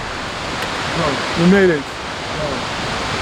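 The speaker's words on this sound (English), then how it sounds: "That's a huge waterfall there." The huge Materuni Waterfall in Tanzania roars as a steady, broad wash of rushing water, loud and continuous, while a voice speaks briefly over it.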